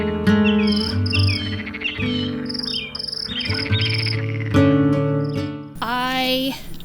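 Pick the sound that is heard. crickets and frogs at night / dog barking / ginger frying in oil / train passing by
crickets and frogs at night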